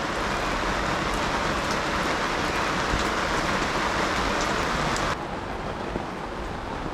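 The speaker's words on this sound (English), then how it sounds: "Very nasty day here in St. Lucia. Been raining non-stop." Heavy, non-stop rain pours over a marina in St. Lucia, a dense even hiss of drops on water and surfaces that steps down slightly in loudness near the end.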